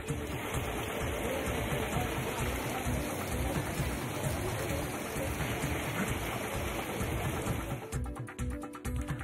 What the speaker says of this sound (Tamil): 104 டிகிரி ஃபாரன்ஹீட் வெயில் கொளுத்திய வேலூரிலும் திடீர் மழை.